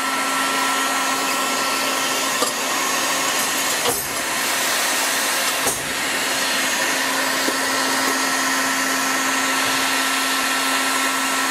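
A heat gun blows a steady, loud whooshing stream of hot air onto the ring of a front right wheel bearing on a 2011 Audi A4 3.0 V6, with a constant whine throughout and brief clicks and knocks from handling.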